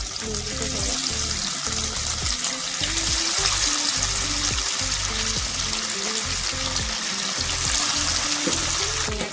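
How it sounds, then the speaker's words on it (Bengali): Silver fish belly pieces frying in hot mustard oil in a pan, a loud, dense, continuous crackling sizzle heard up close with no one talking. "মাস্টার্ড তেল দিয়ে দেবো, সরষে গরম হয়ে গেছে। মাছগুলো এবার দিয়ে দেবো তেলে।"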